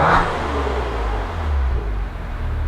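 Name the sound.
Maserati Ghibli SQ4 engine revving in sport mode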